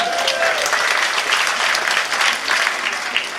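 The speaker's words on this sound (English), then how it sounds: "Give yourselves a round of applause for coming out tonight" A comedy-show crowd gives loud, sustained applause, a thick continuous roar of clapping from the whole room that stays steady throughout.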